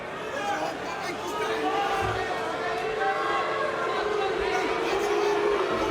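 Restless arena crowd noise fills a PFL MMA event as fighters grapple on the mat, a dense steady murmur with scattered shouts and whistles, with commentators talking over it throughout.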